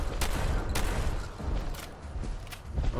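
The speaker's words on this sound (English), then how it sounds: "Combat rifle." Combat rifle gunfire in Fallout 4, a continuous loud stream of rapid overlapping shots and impacts with a few sharper cracks standing out, close and dense throughout.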